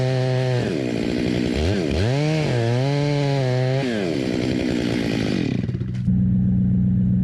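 Chainsaw cutting into a large ash tree toward the hinge while felling it, the engine roaring steadily and bogging in pitch as the chain bites, then dropping back to idle near the end.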